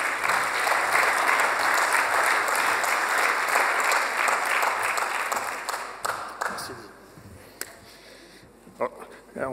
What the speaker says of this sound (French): d'utiliser vos deux mains et d'applaudir très très fort Éric Louvreau